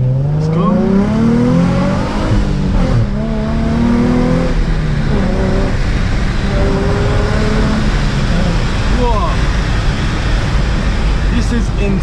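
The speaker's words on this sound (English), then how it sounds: "I know it's going to wheel spin a bit, we don't want it to wheel spin." A salvage Nissan 350Z accelerates hard with wheel spin, its engine climbing in pitch through several close, loud pulls while someone talks over it.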